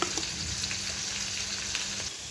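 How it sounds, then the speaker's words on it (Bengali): Potatoes frying in hot oil in a home kitchen, giving a steady close hiss and crackle of sizzling with faint stirring, and no voices. "আলুগুলো লাল লাল করে ভাজা হয়ে গেছে।"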